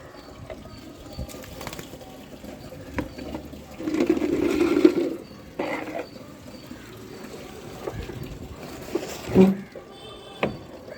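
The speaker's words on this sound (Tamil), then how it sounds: "எல்லாத்துக்குமே தண்ணி பிடிச்சாச்சு" Water runs and splashes into containers at a pigeon loft, swelling in the middle and tapering off, with scattered clicks and soft pigeon coos in the background.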